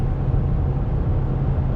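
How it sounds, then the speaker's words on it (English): A 2019 Ram 1500 pickup truck with a 3.21 rear end and General Grabber ATX tires rumbles low and steady from its exhaust just after a downshift, heard continuously while driving into a headwind. "you can hear the exhaust a little bit"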